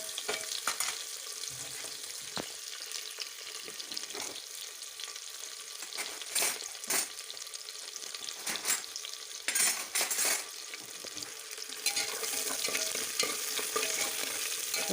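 Onions fry in ghee in a pan with a continuous close sizzle, broken by occasional scrapes and clinks of a stirring utensil against the metal.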